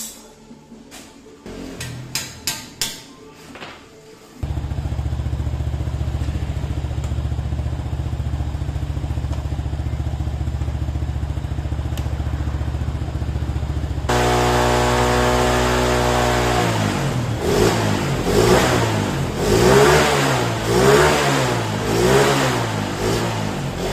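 Honda motorcycle at a dealer service shop under mechanic testing: after a few clanks, the engine settles into a steady idle, then revs up and down repeatedly in sharp, loud bursts.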